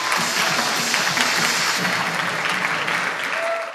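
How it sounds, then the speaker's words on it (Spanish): A room full of people clapping steadily, dense and sustained, with a faint voice briefly audible near the end. "pido un fuerte aplauso para María Ferreras, directora de Alianzas Estratégicas de YouTube"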